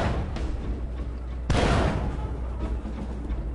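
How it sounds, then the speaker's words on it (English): An explosion in the Field Commander video game lands as one sudden loud boom mid-clip and then fades slowly, against steady background game noise. "one of those games with a really weird bang explosion graphic effect"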